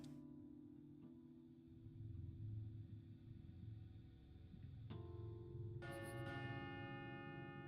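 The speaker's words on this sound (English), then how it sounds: "I gotta spam even harder to skip the bells." Church bells in the Pathologic 2 video game toll with deep, sustained ringing tones over a low rumble, new strikes layering in at intervals and a brighter chime near the end.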